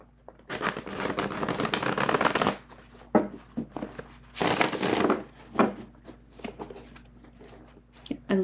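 Riffle shuffling of tarot cards, a long crisp burst followed by another, then scattered soft taps and slides as the cards are squared up, with faint talk.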